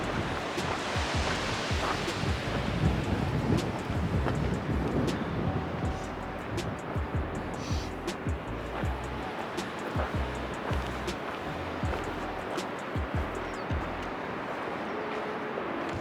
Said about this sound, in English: This is super windy.